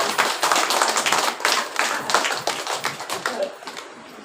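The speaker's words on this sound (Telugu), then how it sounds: "నాకు ఒకసారి చప్పట్లు కొట్టండి" A group of people clap their hands in a quick, uneven burst of applause that lasts a few seconds and then fades out, close and fairly loud.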